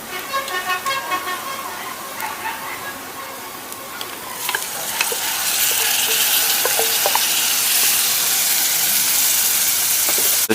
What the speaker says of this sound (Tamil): சிக்கனை ஒரு 2 மினிட்ஸ் நம்ம நல்லா ஃப்ரை பண்ணிக்கலாம்.